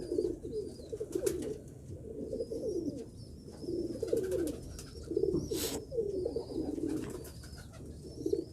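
Pigeons coo in repeated soft, throaty rolling calls close by, one after another with short pauses, over faint background noise.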